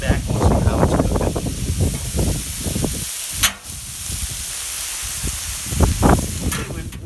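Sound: pork browning on a Camp Chef flat top grill

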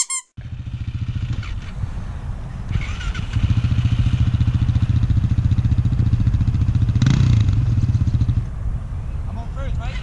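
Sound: motorcycle engine revving while learning to wheelie

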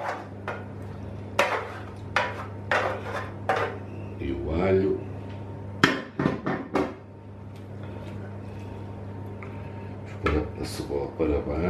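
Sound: scraping onion in a roasting pan

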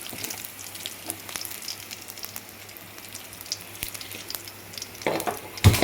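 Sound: mustard seeds and urad dal tempering in a kadai

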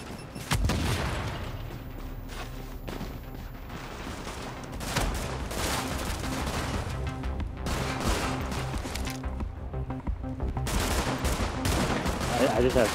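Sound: gunfire in The Division video game

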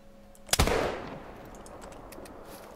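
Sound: rifle gunshot while hunting bison in theHunter: Call of the Wild video game

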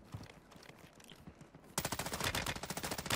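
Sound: gunfire in a shooter video game

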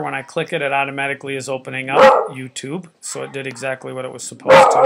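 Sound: dog barking

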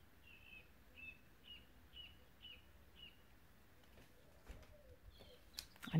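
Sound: birds singing

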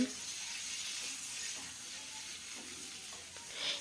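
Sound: drumsticks (sajne data) and potatoes frying in oil

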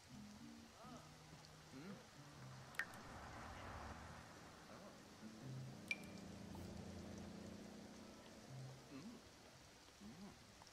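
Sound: rain in the video game The Sims 4

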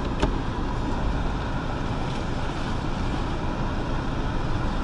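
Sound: car driving on a test drive

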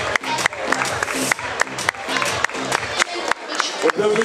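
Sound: audience applauding kart racing trophy winners

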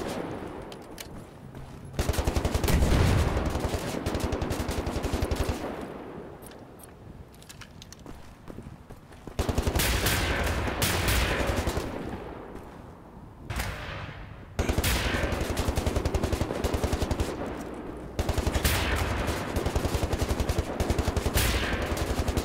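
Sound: big gun firing in video game Wolfenstein: The New Order

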